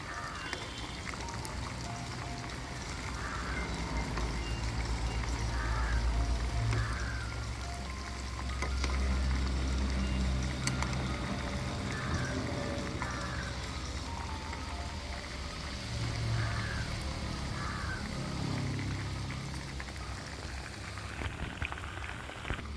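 Chicken pieces frying in hot oil with curry leaves, a steady dense crackle and hiss like rain that swells and eases, close and fairly loud with no talking.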